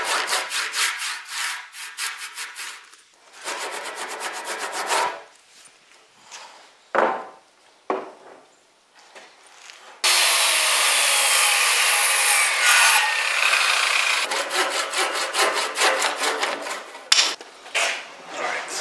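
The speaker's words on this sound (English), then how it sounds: "I'm gonna be cutting through it with a skill saw" A skill saw cuts through a wooden rafter for a round dome roof, with bursts of rough, loud rasping cutting broken by short pauses and a long continuous stretch of sawing near the end.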